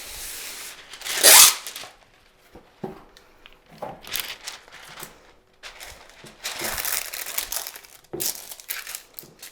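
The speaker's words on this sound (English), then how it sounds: "We're gonna line this with parchment paper" Parchment paper being pressed into a baking pan for a coconut lemon bar dessert, with one loud crumpling burst followed by softer intermittent crinkles and rustles up close.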